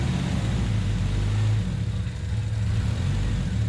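A Honda Accord CB7 engine runs as though under extra load, with a strong, close low drone that surges and dips unevenly, rising briefly before easing back after about two seconds.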